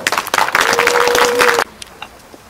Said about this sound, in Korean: 역시 뜨거운 박수로 환영해 주십시오